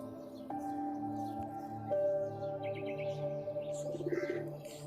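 Pigeons coo and chirp in a bird seller's loft. The soft calls are faint and overlapping against a low background hum.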